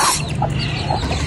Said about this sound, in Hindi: ये मुर्गी आ गई